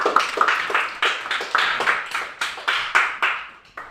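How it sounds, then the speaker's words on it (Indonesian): A small group in a classroom claps for group 1, steady close hand claps in a quick, slightly uneven rhythm that keeps up for about four seconds before tapering off. "kasih aplaus untuk kelompok 1"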